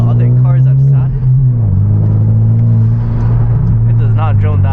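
Steady, loud low drone from the straight-pipe exhaust of a manual Hyundai Genesis Coupe heard from inside while driving at night, holding a constant rumbling pitch with a slight dip partway through.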